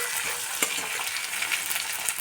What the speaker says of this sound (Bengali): একটা বড় পেঁয়াজ আমি কুচিয়ে রেখেছিলাম, সেটা আমি ভেজে নিচ্ছি।